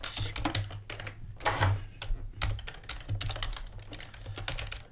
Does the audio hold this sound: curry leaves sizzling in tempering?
no